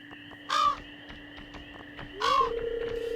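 Crow cawing in the Stardew Valley farming video game, two loud harsh caws about two seconds apart over steady game music, with a rising synthetic tone after the second call.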